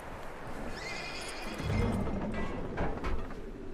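A horse whinnies loudly partway through in the video game Red Dead Redemption 2, a shrill, wavering neigh over a background of soft movement and faint hoof sounds.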